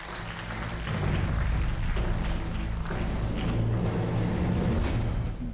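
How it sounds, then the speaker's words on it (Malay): Loud hall applause for the Yadim president at the Daie Muda Yadim 2020 final stage, a dense continuous wash of clapping with a deep boomy rumble underneath, holding steady throughout. "Kita berikan tepukan kepada yang di-Pertua Yadim."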